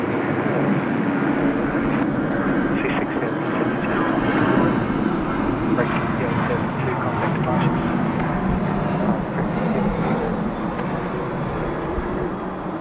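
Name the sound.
UPS Boeing 747-8 freighter departing Sydney Airport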